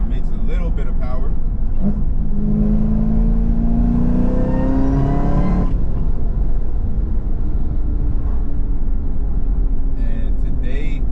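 Krypton Green Chevrolet Camaro ZL1 engine revving hard, a rising tone climbing over a few seconds before cutting off, then settling back to idle rumble, with someone talking around it.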